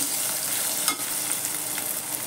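Potatoes stir-fry in a pan with a steady hiss of frying and a faint scrape or two from a spoon, close and even in level, with no speech.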